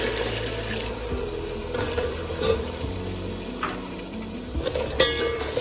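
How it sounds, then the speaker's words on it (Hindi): A spoon slowly stirs sugar and milk into rice syrup in a cooking pot, giving soft scraping swirls with occasional light metallic clinks against the pot over a faint simmering hiss. No one speaks. "चम्मच को आहिस्ता आहिस्ता हिलाते रहेंगे साथ साथ।"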